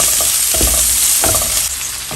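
Chopped onion fries in a pan with a loud, continuous sizzle, punctuated by a few soft scrapes of stirring, heard close up and without talk.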